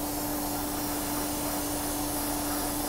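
An airbrush sprays primer in a steady, continuous airy hiss with a constant hum beneath it, close and unbroken, with no talking.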